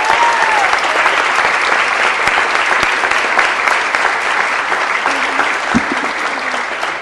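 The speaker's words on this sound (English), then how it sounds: "Let's give them a round of applause." A city council meeting audience gives a loud, sustained round of applause for students' parents, steady dense clapping throughout with faint crowd murmur beneath.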